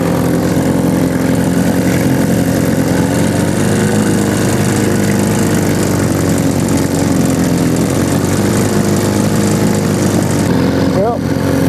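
A 1947 Johnson TD-20 outboard motor runs in a water test barrel, a loud, continuous buzzing drone with a slight wavering in pitch as the idle is adjusted, heard close throughout.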